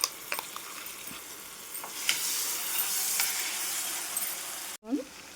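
Tamarind paste sizzling in a hot tempering in a pan while cooking a garlic-flavoured ragi dosa dish, a steady moderate hiss with occasional stirring scrapes, then a brief pause and a clink near the end.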